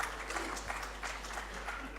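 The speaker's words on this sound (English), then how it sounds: "A warm round of applause for her." A live audience at a teacher app launch event applauds a storyteller coming on stage, a soft, steady spread of clapping heard at a distance and fairly faint.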